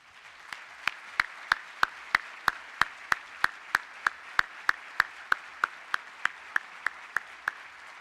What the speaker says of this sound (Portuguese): A quem peço uma salva de palmas.